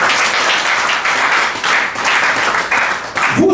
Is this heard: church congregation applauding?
yes